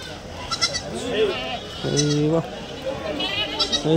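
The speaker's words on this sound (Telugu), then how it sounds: "అన్ని మేకలు ఇవి." Goats bleat nearby at a sheep and goat market in Kadiri before Bakrid, a few wavering calls overlapping, with a person speaking in the background.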